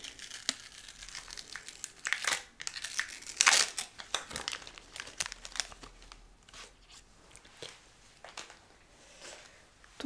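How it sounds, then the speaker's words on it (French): A bandage wrapper is torn open up close in a quiet room, giving a stretch of crinkling and crackling plastic with a louder rip midway and softer rustles trailing off. "ça ressemble à un pansement. C'est pas facile à déchirer."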